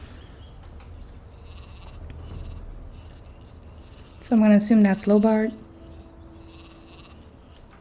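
A sheep in the video game Gothic II gives one loud, close bleat midway, over a quiet game background while someone talks.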